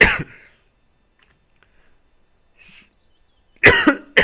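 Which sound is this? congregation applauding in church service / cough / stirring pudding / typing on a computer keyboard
cough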